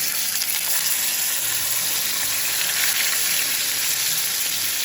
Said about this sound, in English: we're just gonna get a nice sear